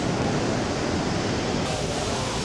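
A waterfall on the China-Vietnam border near a village temple, a dense continuous roar of falling water, loud and steady with no voices.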